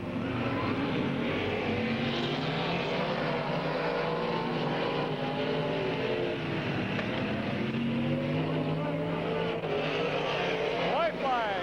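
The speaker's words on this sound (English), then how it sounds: "Glenn Joel pulling out in car 24" Race cars roar around the oval at Midvale Speedway, a dense, continuous engine howl with rising and falling pitches as cars pass close by. A track announcer calls the race over it.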